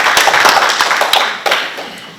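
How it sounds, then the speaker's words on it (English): Clapping for the Governor of Pohnpei State at an International Women's Day event, a dense, loud round of hand claps from a gathered audience, steady and close throughout. "Let's give him a big round of applause."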